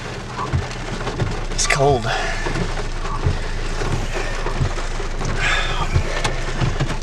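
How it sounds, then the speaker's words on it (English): Rain falling on a car with the window open, a steady broadband hiss that runs through the whole stretch, with engine rumble underneath and people talking over it. "It started to rain."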